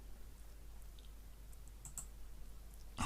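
Computer keyboard keys and mouse clicks while working in Photoshop, heard as a few faint, close taps over steady background hum, ending in a louder click cluster.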